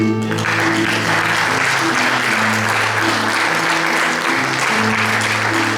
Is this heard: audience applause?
yes